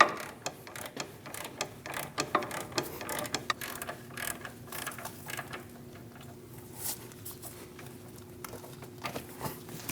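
A 21 mm wrench loosening a front upper control arm bolt and nut on a 2001–2006 Chevrolet Silverado, giving quick ratcheting clicks and metallic ticks in irregular bursts, close and moderately quiet, with no voices.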